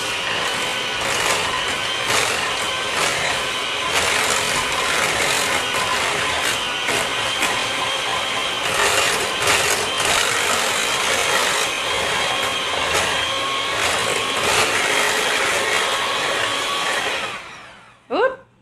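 Vegetables mashed with Kerrygold grass-fed butter for a keto meal, giving a loud, continuous rough grinding and scraping close up, no voices, stopping abruptly near the end.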